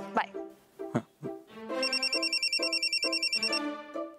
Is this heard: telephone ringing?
yes